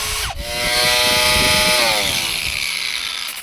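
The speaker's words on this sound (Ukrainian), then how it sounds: "Стартує. В секунді. В секунді набирає оберти." A Bosch-branded power tool motor spins up from a click into a loud, rising whine that climbs fast and then holds a steady high pitch, close and alone with no talk.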